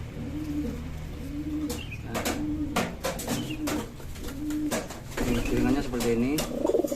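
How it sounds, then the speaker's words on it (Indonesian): A Pekalongan kolong racing pigeon coos in a repeated rhythmic series of low, rolling calls, close and clear, with chirps and some background voices. "merpati kolong"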